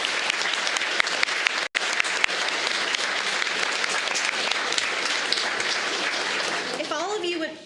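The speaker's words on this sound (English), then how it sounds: "Let's give our support staff another big round of applause." Sustained applause from the audience at a county board of education meeting honoring support staff, loud and continuous with dense clapping throughout, tapering off near the end.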